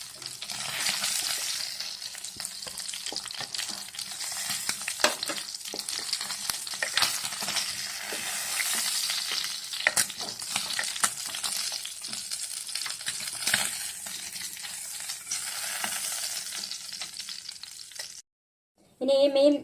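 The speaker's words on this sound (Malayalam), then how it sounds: "മീൻ ആവശ്യത്തിന് മൂത്തിട്ടുണ്ട്" Fish frying in a pan of oil, a continuous close sizzle and crackle with occasional scrapes and pops, running unbroken for a long stretch before it cuts briefly near the end, with no talk.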